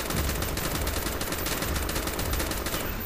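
Rapid automatic gunfire from a Call of Duty: Black Ops match rattles continuously for about three seconds, loud and dense with overlapping bursts and no talk.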